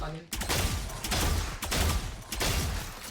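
Rapid bursts of automatic gunfire from the video game Valorant, several loud close volleys separated by brief gaps.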